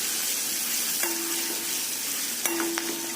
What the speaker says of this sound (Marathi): त्यामध्ये हळद, मंद आचेवरती ते छानसं परतून घ्यायचं